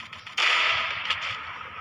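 Gunfire for headshots in a video game: one sharp, cracking shot followed by a short ringing, decaying tail.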